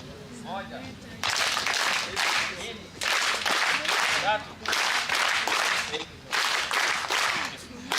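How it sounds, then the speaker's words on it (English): Crowd at a medical school launch clapping in repeated loud bursts of about a second each, separated by short pauses, with talking heard between the bursts. "To give a really huge applause."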